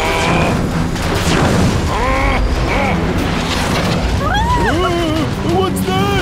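A cartoon rocket punch fires with booming, crashing mechanical impacts and bursts, loud and busy, while animated characters shout and speak over the effects.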